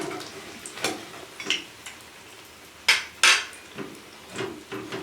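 Bread pakora is turned over in a pan over low heat, giving sharp metal scrapes and clinks of utensil against cookware at irregular intervals, two louder knocks standing out, with only faint sizzling between.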